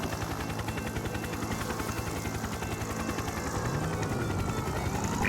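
Helicopter in the video game American Fugitive, a steady rapid rotor chop thudding continuously through the whole stretch, moderately loud with no talk over it.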